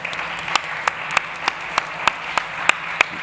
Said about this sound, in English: Please give a big round of applause to Paul Weiss Soler.